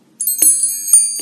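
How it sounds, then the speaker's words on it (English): A bright ringing bell sound effect chimes in a few quick, sharp strikes with sustained metallic overtones, loud and close. "Ring the bell."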